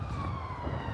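A police siren wails steadily at night on a Glasgow street, a continuous rising and falling tone over a dense low city rumble, fairly loud and sustained for the whole moment.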